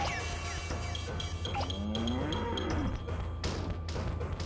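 Cartoonish cows moo in the video game Katamari Damacy Reroll, a couple of drawn-out bending moos over a busy layer of game music and sound effects.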